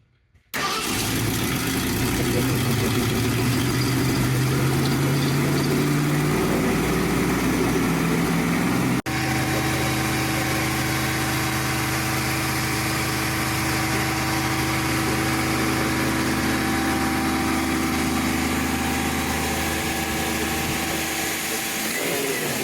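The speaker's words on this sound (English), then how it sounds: "So you just heard it running." A 1965 Ford Mustang GT V8 fitted with Edelbrock upgrades cranks briefly, catches and then settles into a loud, steady run that continues for the rest of the clip, with a slight shift in tone partway through.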